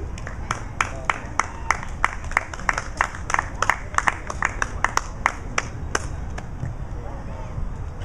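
A small audience claps for a musician, a rhythmic run of distinct hand claps over a steady background hum, fading out near the end.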